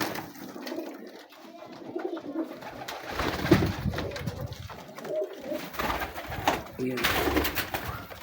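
Teddy pigeons coo in soft, repeated throaty phrases close by, with faint rustling and occasional voices around them.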